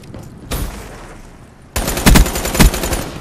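A Cerberus submachine gun fires in a Black Ops 3 free-for-all match: a brief burst first, then a loud, sustained volley of rapid shots with sharp peaks, close and with no talking.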